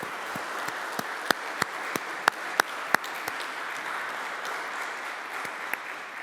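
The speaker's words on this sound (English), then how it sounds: "So would you give her a round of applause for that work?" An audience at a book talk gives a round of applause for Caitlin, steady, moderately loud clapping with a few sharp individual claps standing out, fading slightly toward the end.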